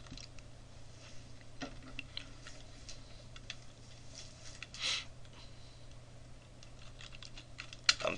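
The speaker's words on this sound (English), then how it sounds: "I'm typing in big data again." Soft, irregular keyboard typing clicks over a steady low hum, with one louder tap near the end.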